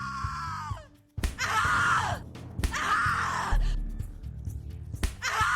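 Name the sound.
screaming in the video game The Cat Lady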